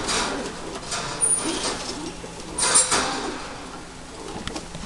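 Soft stock pigeon coos recur in a muffled indoor space, with a low hum underneath and no talking.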